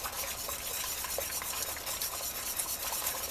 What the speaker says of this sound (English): always be whisking it at the same time that you're adding your cornstarch slurry or even your potato starch slurry